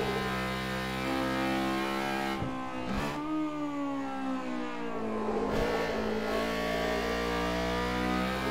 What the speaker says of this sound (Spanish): Y qué guapo cuando explota ahí el VTEC.